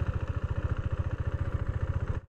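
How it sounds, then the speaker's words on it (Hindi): A KTM Duke 390 BS6 single-cylinder engine running at low revs while the motorcycle rolls in gear without throttle, a close, steady, rapid thumping pulse that cuts off abruptly at the end. "अभी एक्सीलेटर नहीं दिया है मैंने, देखो फिर भी बाइक चल रही है।"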